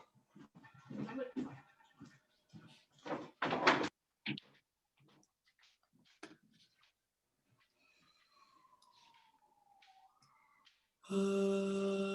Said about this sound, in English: Shut the door to the bathroom, please.